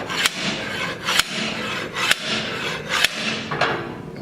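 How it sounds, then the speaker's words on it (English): Axle pulled from the #12 Neil Bonnett race car: a steady metallic rubbing scrape with four sharp clunks spaced about a second apart, close and fairly loud, no talk. "The axle comes right out, and you can pull it all the way out if you want to."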